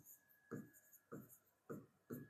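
Chalk or pen strokes on a board, five distinct scratchy marks in a steady rhythm, close and fairly quiet with no voices.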